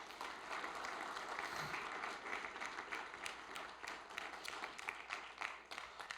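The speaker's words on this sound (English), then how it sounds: "How about a round of applause?" Applause for two Riverside County CAL FIRE firefighters at a director's awards ceremony, a soft, continuous patter of many hands from a modest audience, fairly distant and quiet, lasting the whole stretch.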